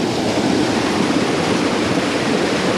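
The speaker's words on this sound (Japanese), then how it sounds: "あ、本当だ、滝がある。" Small waterfall in clear water, steady broadband rushing and splashing that fills the whole clip, loud and close with no voices over it.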